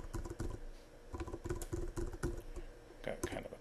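Password typed on a computer keyboard, a quick close run of light key clicks in uneven bursts, with a voice talking over them.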